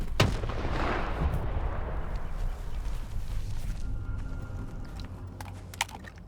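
A video game grenade goes off with a loud boom near the start, followed by a rumbling, crackling tail, scattered lighter impacts, and a sharp pop near the end.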